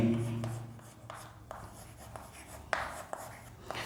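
Chalk or marker strokes on a board during a chemistry lecture on phosphorus allotropes, a series of short, scratchy taps and strokes at irregular intervals, close and moderately loud over a low steady room hum, with no speech.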